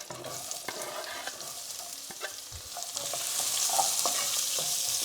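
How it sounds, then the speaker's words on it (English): Curry leaves sizzle and hiss in hot oil in a pan, growing louder and steadier, with occasional light scraping and stirring clicks. "Let it sizzle for a second before you add the onions"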